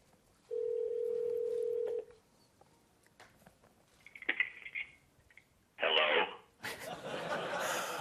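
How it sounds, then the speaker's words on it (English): A speakerphone call placed from a Mac through an iPhone: a steady dial tone, then scattered short electronic tones and a burst of call audio, followed by a loud noisy stretch of crowd sound at the end. "My Mac's going to actually make a speakerphone call through my phone."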